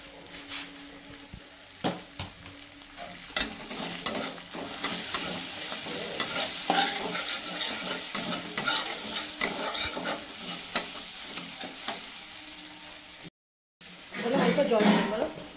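Spice paste of coriander and Kashmiri chili powder sizzles in a pan for a yogurt-style catla fish curry while a utensil stirs and scrapes; clattering strokes over steady frying, with brief speech and a louder sizzling surge near the end.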